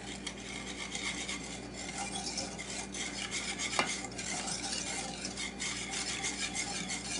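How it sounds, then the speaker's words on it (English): A spoon scrapes and stirs a mixture around a bowl during strawberry shortcake preparation, a steady close scraping and clinking that runs continuously, with one sharper knock partway through. "get it stirred up good."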